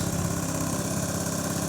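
A Suzuki Burgman 200 scooter engine idling close by, a steady low rumbling purr with a faint rhythmic pulse and slight vibration, heard alone.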